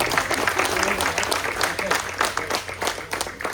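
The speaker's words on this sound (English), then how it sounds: "Let's give our county commissioners a round of applause." An indoor crowd claps steadily at a ribbon-cutting for a Maryland wine house, honoring county commissioners, a dense patter of many hands continuing for several seconds with voices mixed in.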